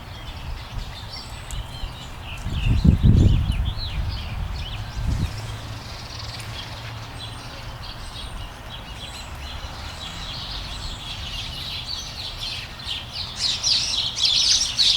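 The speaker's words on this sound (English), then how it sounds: "The birds are happy we're doing this exercise. They're having a fun little bird party." Birds chirp and call outdoors in a garden setting, a steady scatter of high tweets running throughout, with a brief low thump near the start and soft background ambience.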